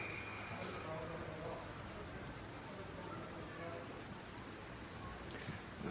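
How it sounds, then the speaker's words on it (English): Driving rain pours steadily over an outdoor under-15 girls' Australian football academy match at UTAS, a dense continuous hiss filling the whole stretch with faint crowd and play sounds mixed in. "Driving rain at UTAS."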